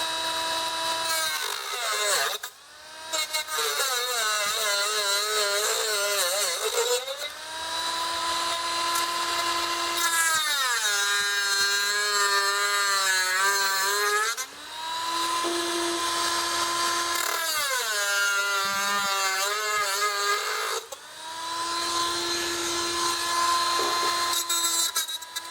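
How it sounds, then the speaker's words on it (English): A thick, non-fiber-reinforced grinding and cutting disc trims metal, giving a loud, continuous high whine that rises and falls in pitch across several long passes with brief pauses between them, alone with no talk. "I have these thick grinding and cutting discs."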